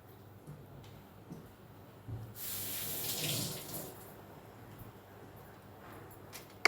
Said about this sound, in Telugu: ఇప్పుడు కొంచెం వాటర్ పోసి వీటిని ఉడకనివ్వాలి